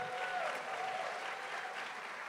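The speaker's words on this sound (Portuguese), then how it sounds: "Uma salva de palmas para elas, tá?" Audience applause at a literary festival tribute, a dense, even patter of many hands clapping at once, sustained and fairly close throughout the short stretch.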